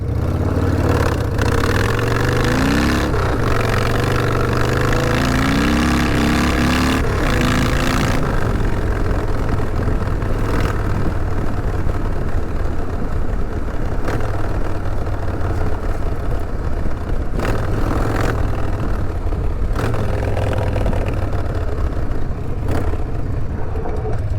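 A motorbike takes a short off-road shortcut near a base, with its engine droning loudly and continuously. Revs rise and fall a few times over the whole stretch, under steady wind and road rumble.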